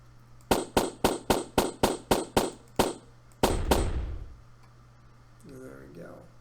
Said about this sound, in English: when he dies, the explosion sound will play.